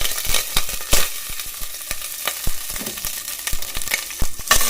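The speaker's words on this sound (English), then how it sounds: "Saute that shit up real quick." Sun-dried tomatoes sauté in a hot pan for pasta with clam sauce, giving a loud, steady sizzle broken by frequent sharp clacks of stirring against the pan.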